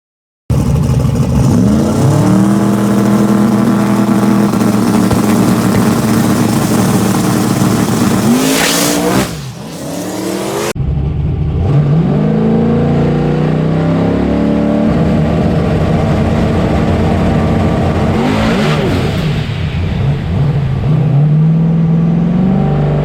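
A drag racing car's engine revs hard and loud on a test pass, with sustained high-pitched roaring, rising pitch sweeps and a brief break midway before the engine picks up again.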